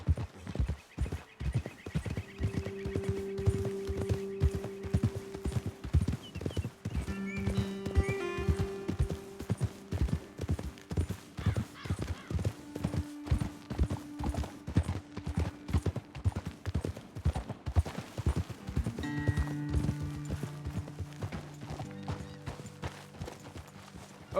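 Steady horse hooves clip-clopping at a walking pace in Red Dead Redemption 2, close and continuous, with background music playing throughout and an occasional horse whinny.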